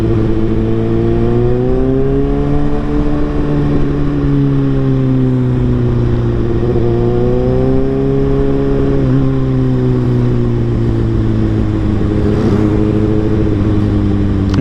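Road traffic rolls past on a shaded street in Pampanga, a loud, steady engine drone with rising and falling motor pitch from cars and motorcycles nearby.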